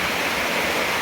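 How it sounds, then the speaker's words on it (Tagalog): Strong floodwater overflows and rushes past, a loud, dense and continuous roar of moving water filling the whole clip with no pauses and no voices. "Ang tubig nga makita na muawas, kusog na gyud kaayo."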